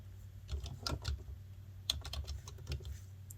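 Fingers type on a computer keyboard in a quick, uneven run of light clicks and taps, close and fairly quiet, with no talking.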